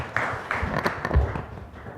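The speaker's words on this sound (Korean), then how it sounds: "박수로 맞이해 주시면 고맙겠습니다" A seminar audience on small-business job policy gives scattered, moderately quiet applause as a discussant is welcomed. The claps are irregular and sparse over about two seconds.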